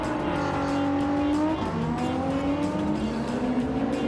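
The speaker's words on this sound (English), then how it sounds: "basically driving the GTR safety car and just going crazy" A Nissan GT-R safety car in Gran Turismo 7 drives hard, its engine revving up and shifting with rising and falling pitch, loud and close, with tire noise and no talk.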